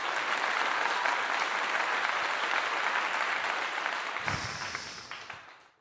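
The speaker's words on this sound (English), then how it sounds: "Let me give you a clap." Sustained applause from a crowd rolls on evenly, then thins and fades away toward the end.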